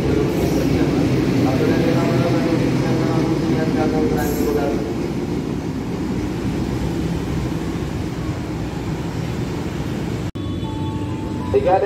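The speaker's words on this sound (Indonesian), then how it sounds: "kereta api melintas langsung hati-hati jalur tiga dari arah barat" A train passes straight through an Indonesian station on track three without stopping, rumbling loudly and steadily, a constant heavy roar of wheels and carriages close at hand, with a brief squeal partway through.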